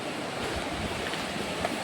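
Rushing water from the Patabanda waterfall near Daringbadi, heard ahead on a rocky trail as a steady, broad roar with no breaks, fairly distant and alone with no voices.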